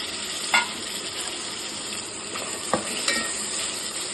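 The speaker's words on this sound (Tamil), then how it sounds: "வதக்கிட்டு அதுக்கப்புறமா தக்காளி போட்டுக்கலாம்" Vegetables and tomatoes for a vegetable biryani sauté in a pan, giving a steady sizzle with a few sharp scraping clicks of a stirring spoon, close and continuous.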